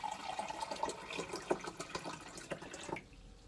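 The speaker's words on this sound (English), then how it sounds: "measuring cup and pour in" Tap water pours into a 2-cup Pyrex glass measuring cup for coffee, a close, bubbling, rising fill lasting about three seconds before it stops abruptly, leaving quiet.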